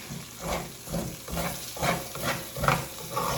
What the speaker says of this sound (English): That's how we're frying the rice to begin with.